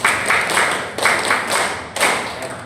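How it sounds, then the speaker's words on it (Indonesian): A seminar audience of parents performs a group spirit clap, repeating short clusters of crisp, synchronized claps in a quick steady rhythm, near and loud, with no voices heard. "Tepuk 7 itu tepuk semangat."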